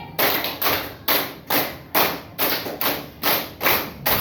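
A group claps hands in two quick runs of five, ten sharp, evenly paced claps in all, loud and near with no voices.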